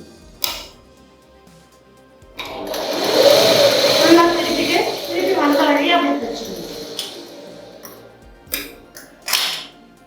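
A sewing machine stitches fabric with coloured thread in a steady, close-up mechanical whir that runs for several seconds. A voice talks before and after the stitching.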